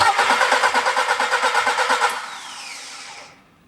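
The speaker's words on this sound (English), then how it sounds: "and I'm cranking the engine." A car engine cranks during a compression test, a rapid rhythmic whirring of the starter for about two seconds, then the loud churn fades away without catching.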